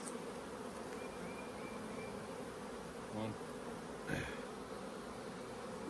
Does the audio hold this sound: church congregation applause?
no